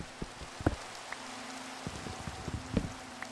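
Steady rain falls in a Minecraft world, a soft continuous hiss at low level, with scattered sharp drips and taps breaking through.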